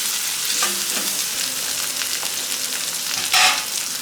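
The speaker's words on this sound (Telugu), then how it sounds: "ఇందులో కొద్దిగా అల్లం వెల్లుల్లి పేస్ట్ వేసుకుందాం." Ginger garlic paste frying with softened onions in a pan, a loud continuous close sizzle broken by a few stirring scrapes and a brief louder crackle near the end.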